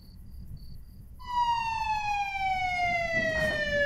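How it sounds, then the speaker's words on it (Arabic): An ambulance siren starts abruptly after a few faint beeps, holding a loud, steady wailing tone with a brief noisy rumble partway through. "الاسعاف وصلت بره."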